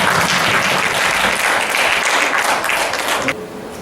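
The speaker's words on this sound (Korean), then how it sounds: "다시 한번 박수 부탁드리도록 하겠습니다" A church congregation at a children's Christmas program applauds, a loud, dense wash of clapping that holds steady, then drops off abruptly near the end into quieter room tone.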